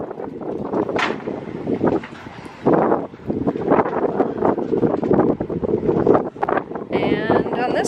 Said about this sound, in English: it is windy today, and the water is moving